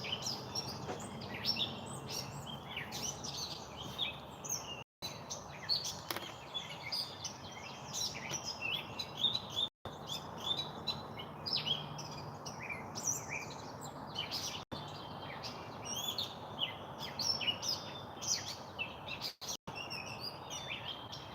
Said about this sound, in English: there's one bird going nuts out there